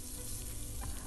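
Onions browning in hot oil for a lentil soup with coconut cream give off a dense, steady sizzle throughout, fairly close, with a brief burst of crackling near the end.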